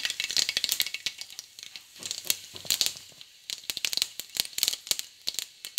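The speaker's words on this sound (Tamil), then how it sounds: "தாளிப்புக்கு தேவையான கடுகு உளுந்து பருப்பு போட்டுடலாம்." Mustard seeds and urad dal spluttering in hot oil, a dense run of sharp crackling pops in irregular bursts, close and fairly loud with no talking.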